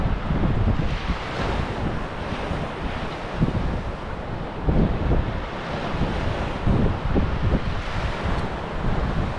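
Strong, steady wind buffets the microphone on a cold seashore over rolling surf, a constant roar with occasional louder gusts and wave rushes, no voices.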